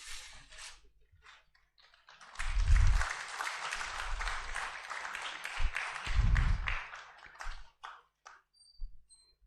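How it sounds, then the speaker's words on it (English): Audience applause at a national convention of insolvency professionals rises into a sustained, moderately distant wave of clapping, with a few scattered claps before and after and low thumps underneath. "Would request a big round of applause here"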